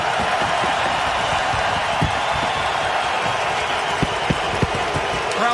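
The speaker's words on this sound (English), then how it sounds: "Crowd booing, they wanted an icing there" Ice hockey arena crowd at a Canada versus USA world junior final, a steady sustained roar of disapproval filling the rink, with scattered sharper shouts and claps poking through the continuous wash of voices.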